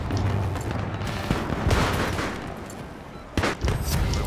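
Video game gunfire with sustained rattling shots and booming impacts, loud and dense throughout, with a few sharper bursts toward the end.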